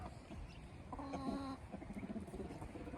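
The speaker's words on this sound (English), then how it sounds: "Oop, the hen's getting closer." A hen clucks softly amid noisy outdoor farmyard background, a short run of low clucks in the middle, fairly faint and close.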